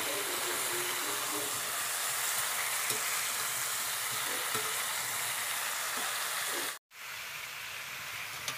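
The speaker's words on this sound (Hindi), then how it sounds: "अच्छी तरह से इनको भूनेंगे।" Spices with salt being stir-roasted in a hot pan for a bhog offering, a steady close sizzle and hiss with occasional soft scrapes of the spoon, with one brief cut to silence near the end.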